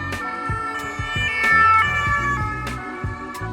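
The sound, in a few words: French police two-tone siren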